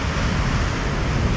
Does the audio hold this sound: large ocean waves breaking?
yes